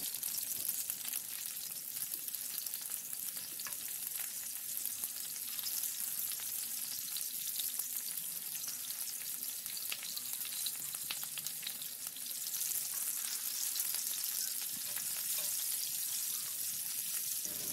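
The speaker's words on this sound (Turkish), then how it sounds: "Biberler de aynı şekilde yakmadan hafif bir şekilde çevire çevire kızartıyorum." Steady sizzling of peppers frying in a pan, continuous and close, with occasional soft stirring and faint watery sounds underneath.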